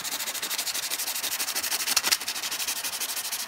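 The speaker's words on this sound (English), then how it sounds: "let's just sand that down with some coarse sandpaper right here" Coarse sandpaper rubbed back and forth over a part for a Tesla coil build, a steady rapid scratchy rasping with even strokes, close and continuous, with no talk.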